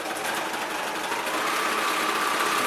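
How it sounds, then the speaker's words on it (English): An overlocker runs a 3-thread chain stitch in dark blue thread along a denim jeans panel, giving a steady, continuous close-up mechanical whir that holds at a constant level throughout with no pauses. "I am overlocking in a 3-thread chain stitch"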